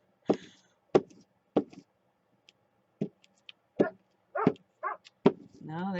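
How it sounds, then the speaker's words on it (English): A dog wanting to be let in, giving sharp intermittent barks or thumps at a door indoors, spaced irregularly and moderately close, with occasional voice at the end. "there's my dog wanting in"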